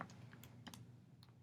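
A few quick, light taps as numbers are keyed into a calculator, sounding as soft, close clicks spaced irregularly over a faint hum.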